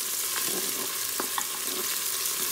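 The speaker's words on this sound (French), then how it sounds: "Je vais la faire revenir dans de l'huile." Chopped onion and vegetables sizzle in hot oil inside a Cookeo multicooker while preparing ratatouille, a steady close frying hiss with a few soft stirring clicks, no talking.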